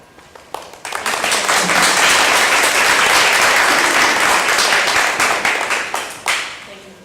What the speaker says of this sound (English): I would ask that you hold your applause